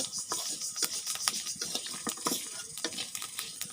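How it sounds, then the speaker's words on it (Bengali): Leafy greens (shak) are frying and being stirred in a pan for a snakehead fish curry, with steady close sizzling broken by repeated scraping strokes of the stirring and no talk. "আমি হলো শাকটা ভাজতেছি শোল মাছে দেওয়ার জন্য"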